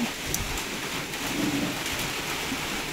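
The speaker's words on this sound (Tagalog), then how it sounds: "kay may ulan" Steady rain hisses continuously, a dense even patter with no voices, filling the whole moment at moderate loudness.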